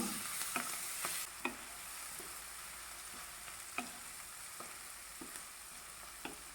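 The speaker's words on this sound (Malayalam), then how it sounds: "തക്കാളി ചേർത്ത് ചെറുതായി ഒന്ന് വാട്ടിയെടുക്കണം." Chopped tomatoes sautéing with cabbage in a pan for cabbage and potato curry, a quiet steady sizzle broken by a series of sharp spoon scrapes and taps as the mix is stirred.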